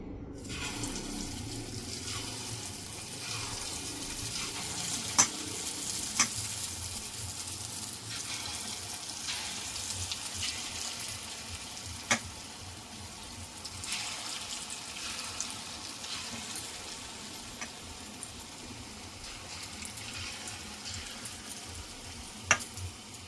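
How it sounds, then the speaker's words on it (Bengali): Lentil pakoras frying in hot oil in a wok, a low steady bubbling hiss throughout, with occasional faint utensil clicks, moderately quiet and close, no speech. "এবার পকোড়াগুলো ভেজে নেব। দেখুন, কড়াইতে তেল দিয়ে দিয়েছি, তেল গরম হয়ে গেছে।"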